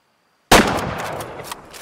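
A single sharp, loud rifle shot from a .223 in the hunting game Way of the Hunter, cracking out after silence and then trailing off into a long reverberant tail with no talk over it.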